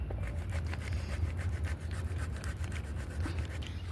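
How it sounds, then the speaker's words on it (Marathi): Boiled potatoes are rubbed against a hand grater in a steady run of rapid, close scraping strokes, with no talking. "मी बघा अशी किसायची"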